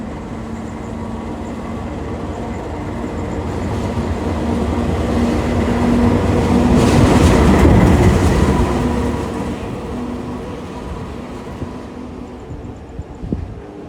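The Progo economy passenger train at a Jakarta station rumbles on the tracks, swelling to a loud, rushing peak at mid-clip before easing off, with no talk over it.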